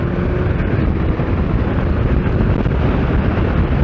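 A Kawasaki Z750S motorcycle ridden on the road, engine pulling hard toward 6,000 RPM, heard onboard as a loud continuous roar heavily mixed with wind rush, without a clear gear change standing out.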